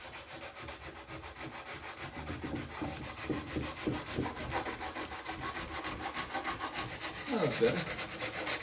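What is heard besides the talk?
sanding painted wood edge of a DIY flag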